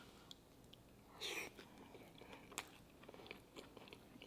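Faint, close biting and chewing on chicken tikka masala: one crunchy bite followed by quiet, irregular mouth noises and soft smacks.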